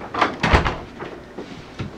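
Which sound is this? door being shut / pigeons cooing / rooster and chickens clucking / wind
door being shut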